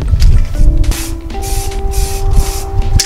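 Bursts of hissing spray paint, applied to grill inserts, come in several short pulses, close and loud, over a steady mechanical hum.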